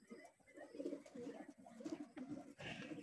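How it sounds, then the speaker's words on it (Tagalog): Racing pigeons coo in a loft where a hen has laid eggs, their soft, throaty calls repeating close by in a steady, overlapping stream. "Ayan ulit mga kalapatid"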